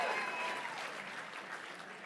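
Applause from an audience at the 50th annual Neil Kelly Memorial Auction, honoring the event sponsors, a steady wash of clapping that holds fairly even and fades only slightly over two seconds.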